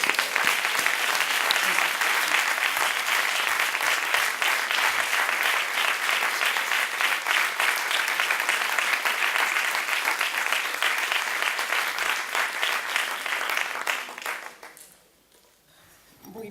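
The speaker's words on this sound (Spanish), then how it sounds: "Vamos a dedicarle este aplauso a la vida y la libertad de las mujeres y las niñas." A conference audience on women's rights and ending violence gives sustained applause, a thick, even wash of clapping for about fourteen seconds before it dies away into near quiet.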